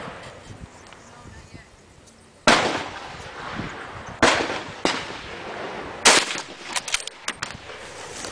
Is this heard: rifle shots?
yes